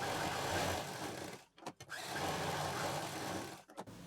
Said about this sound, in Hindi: अब ये जो लाइन खींची है इस पर हमें मशीन चलानी है।